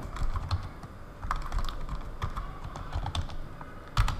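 Fast, steady typing on a computer keyboard while someone fills in a website sign-up form, close and clear with uneven bursts of key clicks and no talking.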